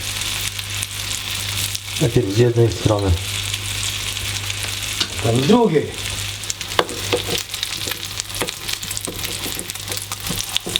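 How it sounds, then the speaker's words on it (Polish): Steady sizzling of cheese pancake batter frying in a hot pan, with a voice speaking briefly in Polish over it twice. "I słuchajcie, i smażymy nasze serniczki."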